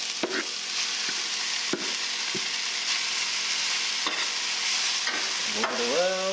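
Shredded hash browns fry in butter in a pan with a steady, close broadband sizzle, broken by several sharp clicks and scrapes of a utensil moving them around; no talk.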